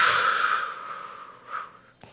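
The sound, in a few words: deep breathing during Pilates exercise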